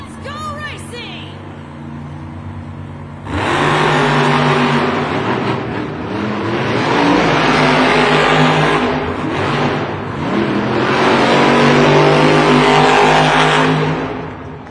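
Monster trucks race in an indoor Monster Jam arena event in Omaha, engines revving loudly and surging in repeated waves with some skidding, under crowd noise and an announcer's voice.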